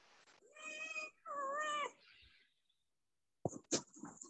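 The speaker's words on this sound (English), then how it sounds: "My cat wants to answer." A pet cat meows twice in clear, drawn-out cries. After a short pause come a few softer chirps and clicks in a quiet room, with no talking.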